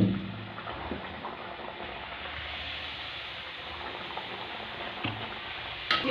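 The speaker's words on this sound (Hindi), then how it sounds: "अब हम पूड़ियों को तलेंगे।" Masala puris frying in hot oil, a dense continuous sizzle and crackle of bubbling oil, steady and fairly close throughout with no talking.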